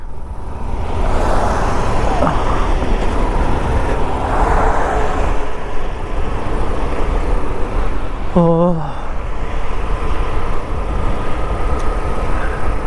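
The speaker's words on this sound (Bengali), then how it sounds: "রাতের হাইওয়ের একটু এনজয় নিন।" Steady broadband rumble of highway traffic on a foggy winter night during a motorbike trip from Kolkata to Purulia, with vehicles passing close and a loud horn sounding briefly midway.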